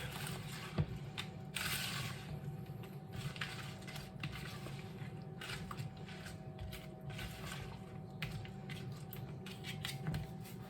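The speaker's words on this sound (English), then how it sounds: "So we're gonna just mix this in." A spoon stirs crispy fried onions into a green bean casserole mixture, giving a steady soft crunching and scraping over a low background hum, with no talking.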